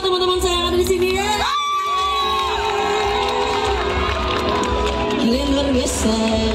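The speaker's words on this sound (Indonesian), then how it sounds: "Tepuk tangan buat teman-teman saya yang ada di sini ya." A festival concert crowd in Malang cheers, whoops and claps loudly and continuously, with shrill shouts rising above a steady roar and music tones faintly underneath.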